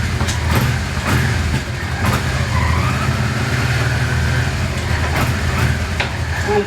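Motorcycle engine on a test ride, steady and close, with the drone dipping and shifting as gears are changed down from fifth, the rumble continuous throughout with wind noise.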